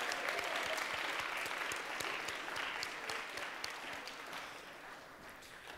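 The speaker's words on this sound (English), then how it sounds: "Can we get another round of applause for that" Congregation applause at a Christmas chapel service: a steady, dense round of clapping from a sizeable crowd, gradually tapering off toward the end.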